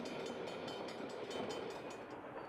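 Durango and Silverton K-28 steam locomotive train rolling at dawn, a faint steady rumble of wheels with rhythmic clickety-clack beats, heard from a distance.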